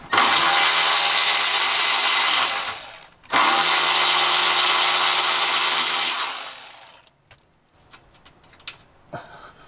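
Power ratchet with a 10mm socket removing nuts that hold a TPMS module to a Jeep cross member, two long loud whirring runs with a brief pause, then clicks and faint handling.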